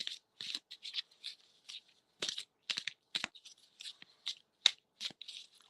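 A deck of oracle cards being shuffled by hand, with quick riffling bursts and soft flicks in irregular clusters separated by short pauses, close and quiet with no talk.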